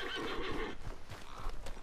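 A horse in Red Dead Redemption 2 gives a loud, shrill whinny up close, followed by a few dull hoof clops and snorts.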